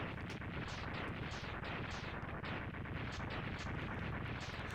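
Dense, continuous blasting from an explosion in the video game Mega Man X2, loud rapid bursts overlapping in a rumbling barrage for several seconds, with no talk.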